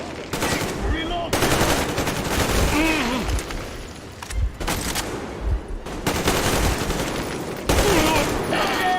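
Machine-gun fire in the Metro Exodus video game, loud sustained bursts repeating through the clip with brief gaps, and a voice shouting over the gunfire.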